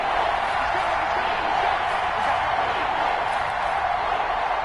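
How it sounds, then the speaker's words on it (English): Steady, dense roar of a stadium crowd in a PS4 football video game, continuous and fairly loud throughout with no clear breaks, a broad wash of cheering noise filling the whole stretch. "That just means this crowd's going to get even louder"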